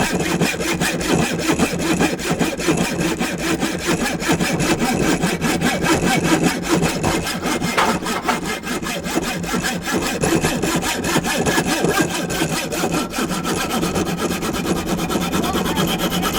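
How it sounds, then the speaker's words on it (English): A hacksaw cuts through a metal bolt on a Land Rover Discovery 2, a fast, steady back-and-forth rasp of strokes, close and loud, with no talking. "Cutting this bolt, done it up."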